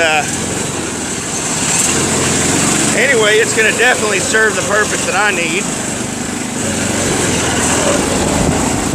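An ATV fitted with a Predator 212 engine runs with a steady, buzzing small-engine drone, heard close and continuous while someone talks over it partway through.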